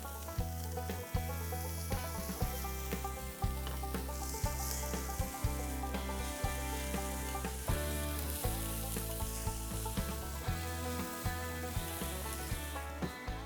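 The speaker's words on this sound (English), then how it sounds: "grill some buttered brioche hamburger buns" Buttered brioche hamburger buns sizzle on a grill in a soft, steady hiss, under a faint repeating musical backing with regular thumping beats, no talk.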